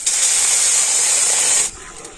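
Strained tamarind chutney hits a hot kadai with a loud, close burst of steamy hissing that holds for under two seconds and then cuts off to a quiet background.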